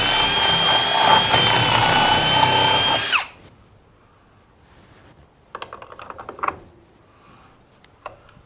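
A power drill whines steadily for about three seconds while setting pins into a post for a garage cow pen, then spins down and stops, followed by scattered clicks and handling noises.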